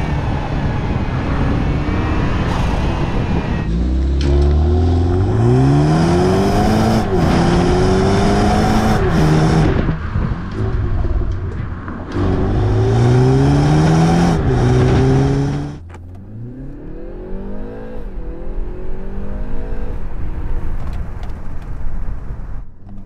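A BMW 330i G20 with a turbo engine and an eight-speed ZF automatic accelerating hard, engine pitch climbing in repeated sweeps as gears change, loud and close, before easing into a quieter, lower rumble near the end.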